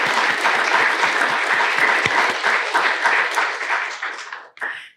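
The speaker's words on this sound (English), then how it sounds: "A round of applause, please." Dense audience applause fills a graduation ceremony for the UC Berkeley GPP minor, steady and loud for about four seconds before cutting off abruptly, with a brief final burst of clapping.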